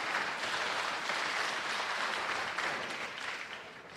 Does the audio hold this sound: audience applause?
yes